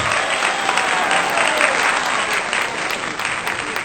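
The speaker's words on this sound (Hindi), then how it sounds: "एक बार आप इन तालियों को और बड़ा कर दीजिए अजीत के लिए।" Audience applause at a Hindi kavi sammelan poetry gathering, dense and steady clapping from a crowd lasting a few seconds at an even level.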